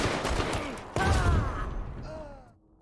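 Video game firefight with a burst of gunfire crackling for about a second and then fading away, heard close with no talk.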